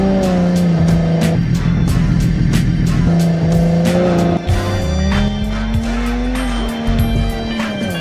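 A Ford Mustang in the BeamNG Drive racing game skids through a crash test, with a loud droning engine, shrill tire squeals and a string of sharp repeated knocks and impacts over several seconds.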